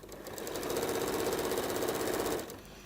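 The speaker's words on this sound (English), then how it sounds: "I'm stitching very close to the edge with about a 1 mil gap" A sewing machine stitches quilt binding close to the fabric edge, running in a fast, steady mechanical rattle for about two seconds before stopping, up close with no voices.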